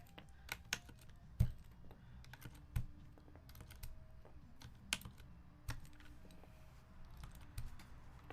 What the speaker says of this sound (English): I guess we'll just plop off these keycaps